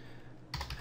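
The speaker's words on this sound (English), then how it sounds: "let's say I want to just type in here" Keystrokes tapped on a computer keyboard, a short quick burst of typing starting halfway through after near silence, close and moderately quiet.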